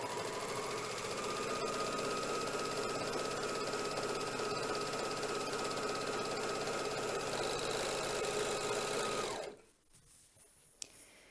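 A Janome Magnolia 7034D serger stitches over a fabric corner with a steady, fast mechanical whir and chatter that runs about nine seconds, then cuts off into near silence broken by a single small click.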